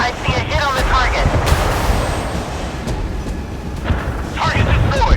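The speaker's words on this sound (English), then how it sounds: "Missile launch that target. I see a hit on the target." A missile hits a target in the naval combat game Force of Warships, a dense rumbling boom and blast over continuous battle noise, loud and close, with radio-style voice callouts running through it.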